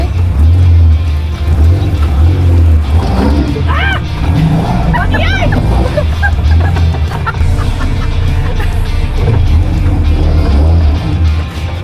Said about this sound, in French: Tu pèses un peu sur le gaz vu que là, on a une petite montée.